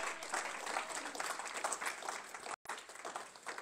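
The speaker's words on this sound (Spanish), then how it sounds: "Puede dar un aplauso al que vive, hermano." A church congregation applauds during a pastor's sermon, the clapping a dense, steady wash that cuts out for a moment near the end before resuming.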